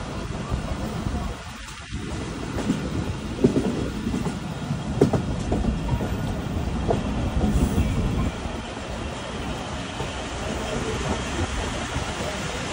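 A railcar slowing with its brakes applied as it approaches Mandra railway station in Punjab in light rain, giving steady rumbling wheel and rail noise with faint clatter throughout.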